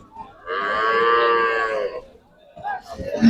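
A single long, loud moo from a Friesian dairy cow rings out for over a second, followed by faint background voices and shuffling.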